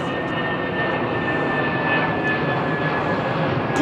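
An Airbus A380 jet departs Heathrow Airport, its engines a steady, broad roar with a thin high whine, loud and sustained throughout without any talk.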